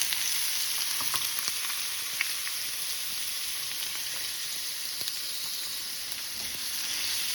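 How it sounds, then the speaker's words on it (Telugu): Onions frying in oil in a pan, a steady close sizzle with scattered crackles and pops, continuous and alone throughout. "ఉల్లిపాయలు వేసుకుని వేపుకోవాలి."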